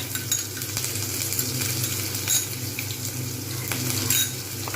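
Ginger-garlic paste, chili powder and turmeric fry with potatoes, panch phoron, dried red chilies and salt for a bean and cauliflower curry. The pan sizzles softly up close while a spatula scrapes and stirs, over a low steady hum.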